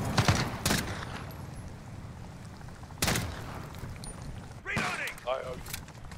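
Video game gunfire in a shooter: several sharp loud shots and short bursts spaced a few seconds apart, with a person talking between them near the end.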